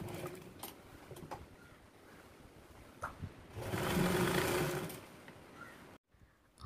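A home sewing machine runs in short bursts and then a steady, louder stretch of stitching as a fabric rope tie is sewn onto a kitchen apron, then it stops abruptly.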